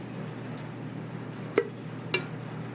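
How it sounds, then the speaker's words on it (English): Rabbit pieces brown in clarified butter in a pan, a soft steady sizzle close by, broken by two brief sharp clinks or taps of utensils. "And we'll start browning the rabbit."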